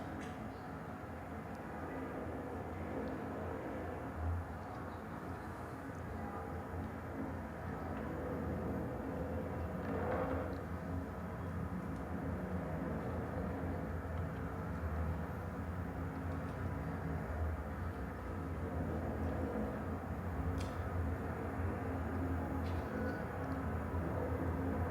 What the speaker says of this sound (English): So you hear wind, you hear traffic, but you also literally hear the building